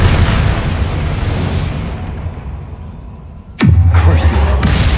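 A Bombarda blasting spell goes off in a video game: a loud, sudden boom with a falling tone and a rumbling tail, cutting through a noisy game background.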